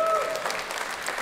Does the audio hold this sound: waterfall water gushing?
no